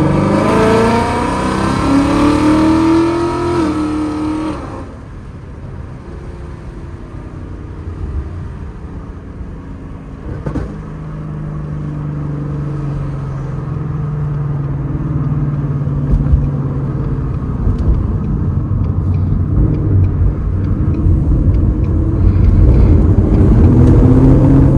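A 2018 Ford Mustang 5.0 V8 revs and accelerates, a deep engine roar climbing then dropping away, followed by a lower rumbling pull that builds steadily louder, close and powerful.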